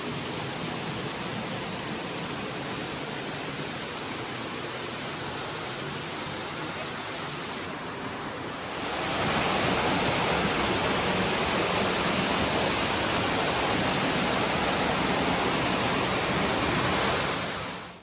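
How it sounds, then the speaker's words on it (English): Dry Falls in Highlands, North Carolina, heard from behind the curtain of falling water: a dense, steady roar of cascading water, loud and close, swelling slightly louder partway through and continuing without pause. "hear the powerful sound of the water, and look out through the waterfall towards the forest on the other side"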